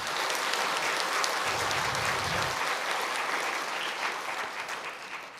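A church congregation at a pastor's installation service claps together, dense sustained applause that swells and then slowly thins out toward the end, with no talking.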